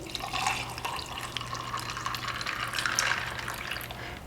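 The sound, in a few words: pouring cold brew coffee into cup with ice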